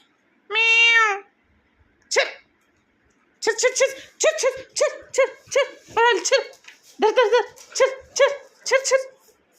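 A cat meows repeatedly, about a dozen short, high calls coming in quick succession after a longer opening cry, loud and close.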